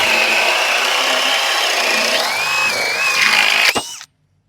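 A drill bit is pushed down through a piece of wood, giving a loud, continuous high whine and grinding rasp that rises in pitch, then a short crack as it breaks through before cutting to silence.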